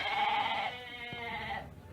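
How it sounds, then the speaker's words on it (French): A sheep lets out a loud, close, sustained bleat with a wavering tone that fades out after about a second and a half. "Ensuite, ce fut le formidable bêlement des moutons qui retentit."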